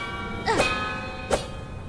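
Two bright bell chimes ring out about a second apart in Hollow Knight Silksong, each with a shimmering decay over a steady ambient game drone.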